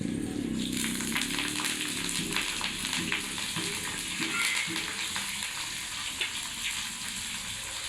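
Asafoetida and other ingredients fry in hot oil in a pan over a charcoal stove, giving a steady soft sizzle with light crackles and occasional stirring clinks.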